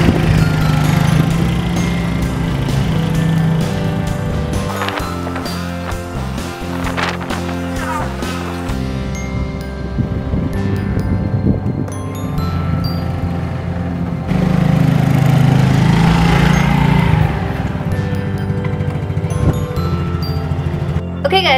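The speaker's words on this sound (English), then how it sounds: "has been able to ride my motorcycle a little bit to practice" A Yamaha Soul motorcycle runs while being ridden, its loud, close engine drone holding steady and then swelling and easing as the throttle changes.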